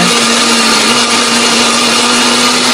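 Electric blender grinding spice paste for sate lilit and long-bean urap, a steady loud whirring drone with a constant motor hum throughout, no voices.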